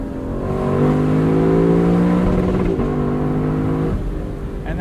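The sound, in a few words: Lexus LC sports car engine revving to the rev limiter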